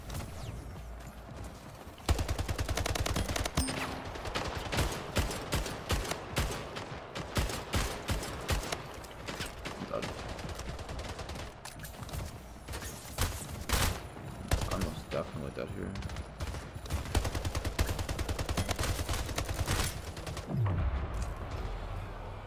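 Full-auto gunfire in the arena shooter Splitgate clatters in long rapid streams, loud and close, over constant game action with occasional talk.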